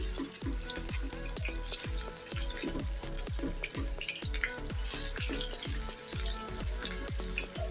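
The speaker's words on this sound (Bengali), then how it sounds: "চিকেনগুলো একটু ভালো করে ভেজে নিয়েছি।" Chicken pieces fry over high heat in a pan for chow mein, a bright constant sizzle punctuated by regular, close knocks of a spatula stirring against the pan, with no talking.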